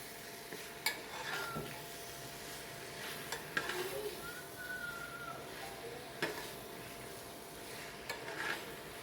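Ivy gourd and cauliflower being sautéed in a pan give a faint, low sizzle, broken by soft, irregular scrapes and taps of a spoon as they are stirred.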